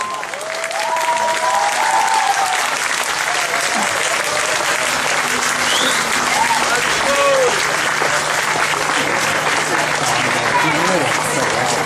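Large audience applauding after an English-language dance drama of Shakuntala, loud sustained clapping filling the hall with crowd noise, while voices carry over it throughout.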